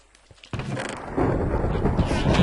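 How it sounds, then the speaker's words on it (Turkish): Thunder rumbling after a lightning strike in a Minecraft survival game, a sudden loud crack followed by a sustained heavy rumble. "Şurada da şimşek geldi."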